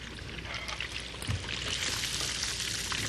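Fried fish draining after frying, a continuous close hiss and trickle of oil dripping off, fairly steady and moderately loud, with no speech.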